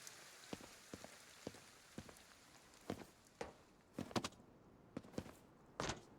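Rain pattering on rooftop surfaces in the video game Ghostwire: Tokyo, heard as faint scattered drips and taps over a quiet hiss, with a few sharper splashes toward the end.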